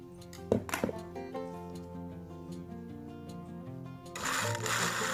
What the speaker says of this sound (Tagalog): And then, i-blender natin ulit.